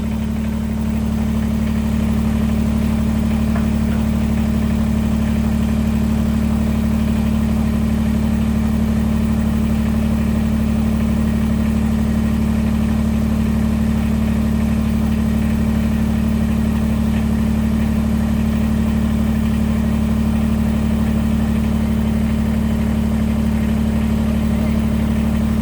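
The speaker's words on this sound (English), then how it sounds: "I guess we'll use the tractor for things other than digging in the dirt." A tractor engine idles in a steady, loud, low drone that holds unchanged throughout, with no talk over it.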